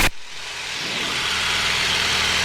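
A Yak-52 aircraft engine holds at cruise power, a constant, close broadband roar with a low engine hum steadily filling in after a sharp click at the start.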